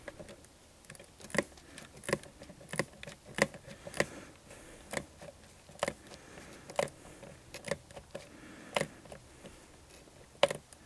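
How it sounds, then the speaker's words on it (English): A small hand ratchet tightens a fuel pump on a CFMOTO vehicle in a cramped space, giving a run of sharp, separate clicks in an uneven rhythm, close and clear, with no voices. "I'm gonna go get my little ratchet and do that"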